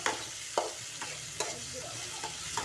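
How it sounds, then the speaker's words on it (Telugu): Tomatoes and green chilies fry in a pan for a country chicken curry, with a continuous soft sizzle broken by regular scraping strokes of stirring. "ఇది బాగా వేయించుకోవాలి టమోటా"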